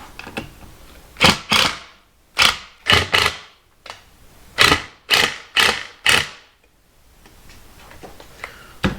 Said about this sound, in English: I'll just screw it in